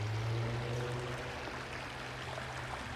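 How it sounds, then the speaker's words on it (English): A river flowing through Mill Green Nature Reserve, a steady, even wash of running water with a low rumbling undertone, close and continuous with no voices. "the lovely sound of the river flowing"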